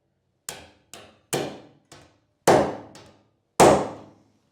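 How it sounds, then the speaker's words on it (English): A hammer strikes a metal punch to make a small dent in a boat hull ahead of drilling, giving six sharp, separate taps of varying strength with short pauses between them. "this is just a metal punch. This is just going to make a little tiny hole, or I should say a little tiny dent"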